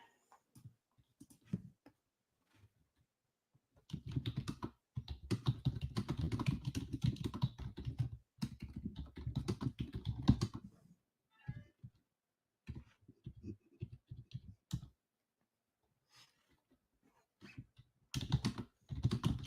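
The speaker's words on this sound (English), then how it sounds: "I'm just typing something." Bursts of keyboard typing, close and clicky, with a long dense run in the middle and shorter quick flurries separated by pauses.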